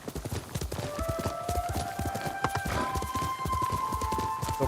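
Horse hooves clip-clop at a steady walking rhythm in a samurai adventure video game, close and continuous, with faint tonal ambience beneath.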